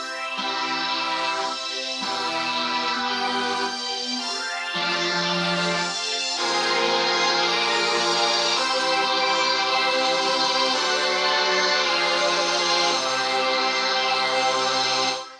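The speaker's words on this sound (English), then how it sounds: "we're going to beef out the orchestral sounds with more strings and also the choir patches as well" Mellotron orchestral string and choir patches swell together in sustained layered chords, full and loud, shifting harmonies every few seconds with no voices speaking.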